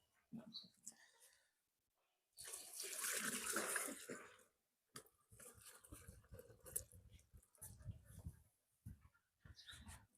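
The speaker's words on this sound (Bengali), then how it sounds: "পানি ঢেলে দেবেন" Water splashes and pours in a steady rush for a couple of seconds into cattle feed mixture, about five litres, surrounded by nearby talking and handling noises.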